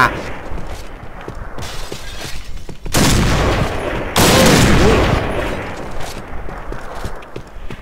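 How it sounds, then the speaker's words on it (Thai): Gunfire in the shooter game Point Blank, with shots hitting glass: a sharp opening burst, then two sustained loud volleys amid scattered shots. "ยิงโดนกระจกหมดเลย"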